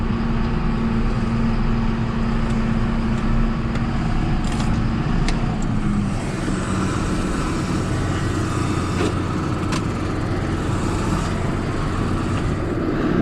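A John Deere 6930 tractor reverses on a farm to hitch a silage trailer for hauling manure, its engine a loud, steady diesel drone close by throughout with a faint tonal whine early on.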